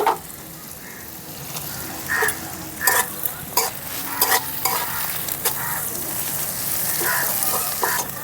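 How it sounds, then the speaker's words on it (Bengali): Lightly fried onion and chopped green chilli sizzle in oil in a pan, a continuous close hiss punctuated by repeated scraping stirs and metallic clinks, with a faint cough once. "পেঁয়াজটা হালকা একটু ভাজা ভাজা করে নিয়ে দিয়ে দিচ্ছি কাঁচা লঙ্কা কুচি"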